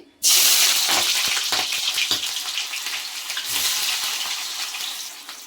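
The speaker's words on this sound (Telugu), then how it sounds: "అన్నీ ఒకసారి వేసేస్తున్నానండి నేను. ఇది బాగా బ్రౌన్ కలర్ వచ్చేంత వరకు వేపుకోవాలండి." Thick-cut sliced onions hit hot oil for Hyderabad chicken dum biryani, bursting into a sudden loud sizzle that stays fierce and bubbling, swells again partway through, and carries on without any voices.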